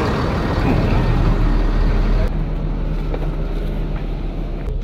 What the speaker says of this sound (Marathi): गाडीमध्ये येऊन बसलो आहे, गाडी निघत आहे